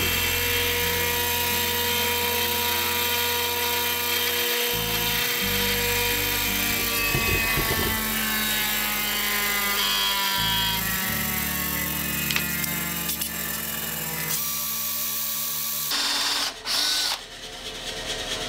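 A large bench grinding wheel touches up the relief angle on a drill bit, giving a steady loud motor whine with rough grinding contact that shifts in bursts, then ends in a brief clatter.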